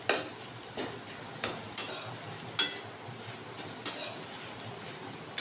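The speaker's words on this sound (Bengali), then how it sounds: "আরেকটু গ্যাসের ফ্লেমটা হাই করে ভালো করে ভেজে নেব" Potato, paneer and chicken frying on a high flame, a soft steady sizzle broken by sharp irregular scrapes and taps of a spoon stirring in the pan, fairly quiet and close.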